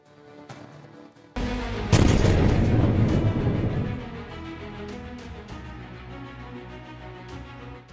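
Israeli air strike on Syria with a powerful earthquake-type bomb: a loud, deep blast swells suddenly and rumbles for a few seconds before fading into a lingering roar, with scattered sharp pops around it.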